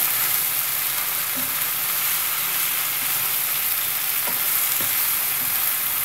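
Kakrol (spine gourd) bhaji with onions frying in a pan, a steady close sizzle throughout with a few soft scrapes of stirring near the end.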